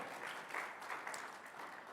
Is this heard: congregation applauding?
yes